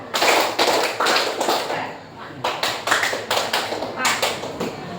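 A classroom of students clap in unison during a counting clap exercise, several sharp group claps in short bursts with a teacher's voice speaking between them.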